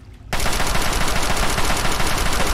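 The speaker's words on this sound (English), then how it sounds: "Had to shoot immediately so that he didn't get a free hit" Rapid automatic gunfire from the video game Fallout 3, loud continuous bursts that start abruptly and run without pause, with no voices over them.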